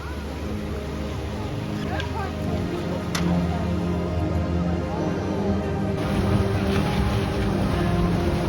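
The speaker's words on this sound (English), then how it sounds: "So hopefully we can go out on this boat now." A tour boat in Turkey gives a steady, moderately loud engine drone with water and wind noise beneath, while voices talk faintly in the background.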